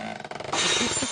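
A metal vessel clatters and rolls, first a few scattered clinks and then a sustained bright rattle that continues to the end.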